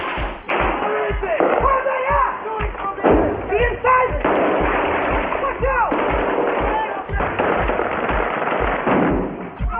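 Repeated gunshots crack in rapid bursts, loud and close, with a steady pounding of shots and some distant shouting mixed in, during a firefight at a mosque in the Iraq War.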